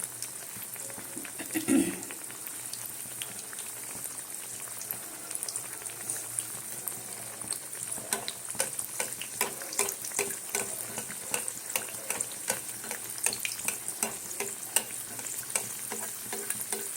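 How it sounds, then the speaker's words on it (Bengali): Mughlai paratha frying in a small pan with a little oil, steady close sizzling with crackling pops as hot oil is splashed over it, no talking. "আমি তেলটা একটু কম দিয়েছি, এই জন্য এইভাবে ছিটা দিচ্ছি।"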